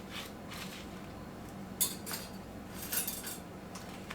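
Knife slicing a piece off a loaf of homemade herb bread in a kitchen, with a few soft sawing strokes and a couple of sharper clinks against the board or plate, fairly quiet and without talk.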